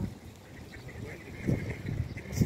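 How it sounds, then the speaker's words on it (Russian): Ducks, including orange and green ones, quacking softly in a park pond, a few low calls close by amid faint background voices. "Красивые утки, вот эти оранжевые"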